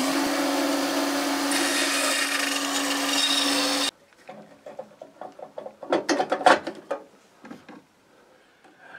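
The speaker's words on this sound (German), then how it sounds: "Jetzt mache ich die Bandsäge an und säge dann in diesen Ausschnitt hier." A band saw running and cutting into a wooden plate in a workshop, a steady loud mechanical whine that stops abruptly, followed by scattered knocks and clatter of wood being handled.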